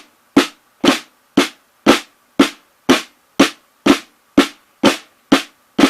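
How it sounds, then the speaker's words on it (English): Eleven crisp drum hits of a flam tap rudiment land in an even, steady rhythm, each a sharp snare-like strike with a quick decay and a faint grace note before it. "Now the flam tap a little faster sounds like this."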